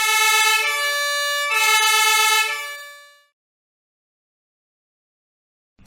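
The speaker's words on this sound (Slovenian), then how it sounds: "Gasilski avto je glasen." A loud, tonal fire engine siren or horn blares in two pulses, then cuts off and rings out into silence.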